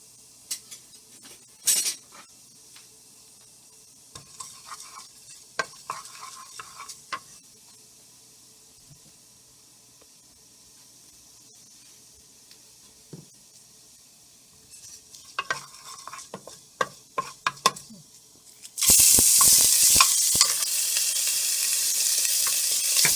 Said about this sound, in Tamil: இப்போ கொஞ்சம் ஜீரகம் நல்லா அது பொரியட்டும்.